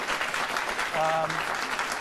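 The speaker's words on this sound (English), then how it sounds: "You can applaud." Audience applause on a television talk panel, a brief wash of clapping with a faint tonal sound and murmuring voices mixed in.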